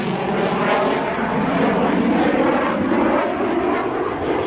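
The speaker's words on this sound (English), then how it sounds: "With enormous skill, Phil Erstreicher hauls the reluctant F-16 into the air." An F-16 jet on its accidental first flight in January 1974 lifts off the runway, a loud, sustained engine roar with a broad whooshing rush, steady and close throughout.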